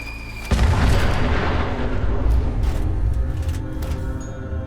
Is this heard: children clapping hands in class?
no